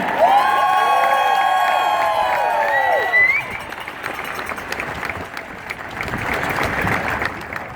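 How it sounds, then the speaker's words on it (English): At the Boston Marathon 2017 medal ceremony, a sustained tonal chime fades into a crowd clapping and cheering, steady applause continuing to the end. "Let's have a warm round of applause for Marcel Hugh from Switzerland."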